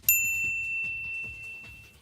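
A bright electronic notification-bell ding rings once at the start and its clear tone lingers and fades, over a low, quiet background rumble with no speech.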